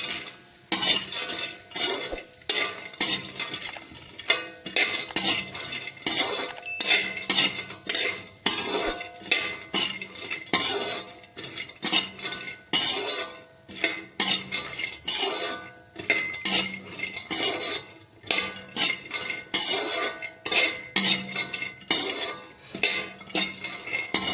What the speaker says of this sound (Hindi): अब इसी कढ़ाई में जो घी बच गया है उसी में हम ये काजू और बादाम को एक साथ भून लेंगे।